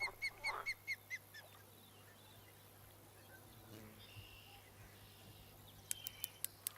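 A duck in the Fishing Planet video game quacks in a rapid run of about six short honking calls, then a few fainter ones near the end, over quiet outdoor ambience.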